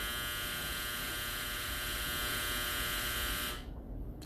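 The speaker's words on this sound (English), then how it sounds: "Is that not the most obnoxious dryer buzzer in the world?" A clothes dryer's loud, harsh electronic buzzer drones continuously for several seconds, then cuts off abruptly, leaving a low hum.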